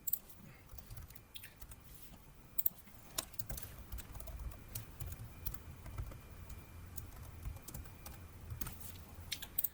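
Code being typed on a computer keyboard in a quiet room, with a steady, uneven run of soft, close key clicks and occasional sharper taps continuing throughout without speech.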